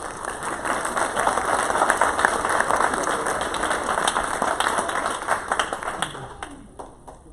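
A school board meeting audience applauds Parkway High School Starbase rocketry students, sustained clapping with crisp individual hand claps over a steady electronic whine, tapering off near the end.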